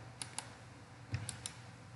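A computer mouse clicking in SolidCAM CAD software, giving four faint, sharp ticks in two pairs, close and quiet against a low background hum.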